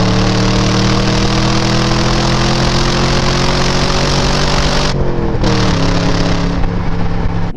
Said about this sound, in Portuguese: é o barulho do motor.